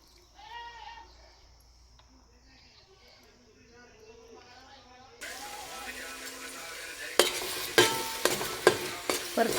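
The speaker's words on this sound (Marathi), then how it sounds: "परतून घ्यायचा आपल्याला मसाला चांगला" Masala paste of ground garlic, fresh coconut, ginger and coriander drops into hot oil and breaks into a loud, continuous sizzle partway through. Sharp stirring scrapes follow, after a quieter opening stretch of voices and bleat-like calls.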